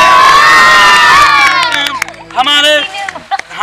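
A crowd at a village wrestling bout in Bihar cheers and shouts loudly for the wrestlers, with children's shrill cries rising above the noise. The roar fades briefly, then bursts up again, close and dense, with a voice over the cheering.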